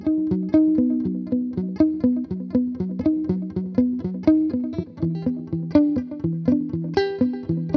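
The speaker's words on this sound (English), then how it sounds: "Okay, that's a very nice echo." An electric guitar is played through a Fender echo delay pedal model in AmpliTube 5 software, picking a clean, rhythmic run of notes that each ring out with quick repeating echoes, loud and up front with no talking.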